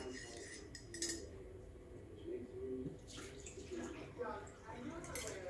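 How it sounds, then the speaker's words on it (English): Hot water from a Breville Oracle espresso machine splashes and pours out of a mug into a sink, with light clinks of ceramic and cutlery against it. "I'm going to dump out all that hot water."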